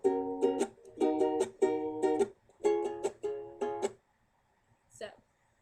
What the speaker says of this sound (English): the strum I'm going to show you guys today is a down, up, chuck, up, chuck.